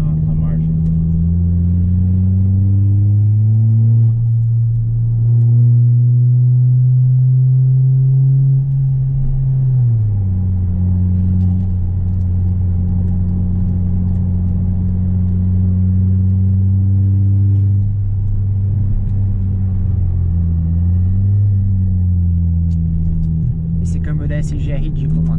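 A Volkswagen Jetta turbo car pulls hard at night, its engine drone rising steadily then dropping abruptly at gear changes before climbing again, loud and continuous from inside the cabin, with no one talking.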